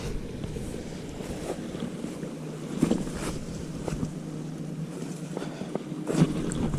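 Creek water on a wooded hiking trail runs in a steady, broad wash, close and continuous, with a few brief knocks and splashes rising above the flow.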